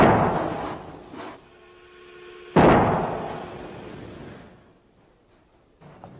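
A Boeing 747 wing snapping under load in a destructive strength test: a sudden loud crack bursts out near the middle and rolls into a long fading rumble, with earlier thumps and a faint steady whine before it.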